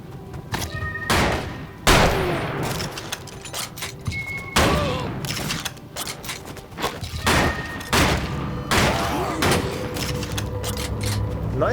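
Sharp, loud gunshots in the bloody Western roguelite Colt Canyon, some firing incendiary rounds, heard as repeated close bursts and thuds at irregular intervals over game noise, with a voice talking between shots.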